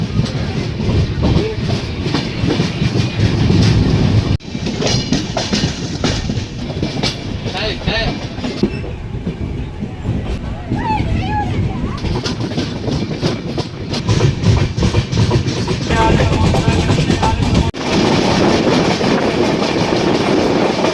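A passenger train running on rails near Royapuram station, a loud continuous rumble with rhythmic clickety-clack of wheels over rail joints, close and sustained throughout with faint voices underneath.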